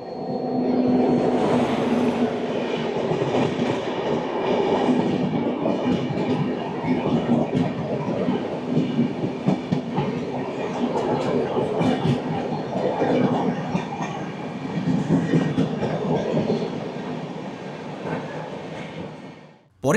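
Sealdah Ajmer Express 12988 running through the night, with the Tejas Rajdhani passing close by: a loud, steady rolling rumble of wheels and carriages with clattering rail joints throughout, no voices.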